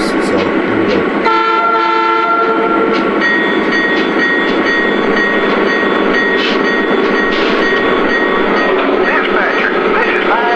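A Lionel Santa Fe Dash-8 model train locomotive runs with a steady rumble while its horn toots repeatedly, loud and close, with a voice occasionally speaking underneath.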